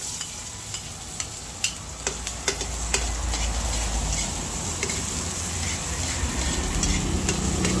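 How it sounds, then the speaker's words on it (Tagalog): Garlic and onion sautéing in a pan, a steady loud sizzle with scattered sharp ticks and pops from stirring, no voices over it. "bali akin na pong igigisa. Lalagay ko na po itong bawang. Sibuyas"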